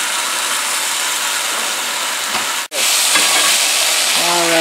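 A ham steak topped with salsa verde sizzles loudly in a cast iron pan, a dense continuous hiss that briefly cuts out for a moment before resuming, with a few faint clinks near the end and no talking.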